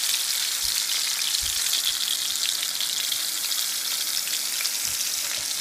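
Hilsa fish pieces, previously frozen, lightly frying in hot oil in a pan, giving a steady, dense crackling sizzle throughout with a few soft low thumps.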